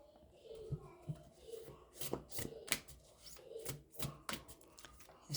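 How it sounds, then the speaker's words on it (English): Oracle cards being shuffled close by, quiet riffling and slapping bursts in an uneven rhythm. "I want to pull another oracle card"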